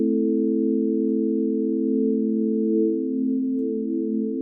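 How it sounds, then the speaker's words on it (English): A synth chord with unison added in Propellerheads Reason holds as a sustained, steady tone of several stacked pitches. It plays alone and loud, and its thick, slightly wavering body shifts subtly toward the end. "Take a listen to what happens when we start adding the unison."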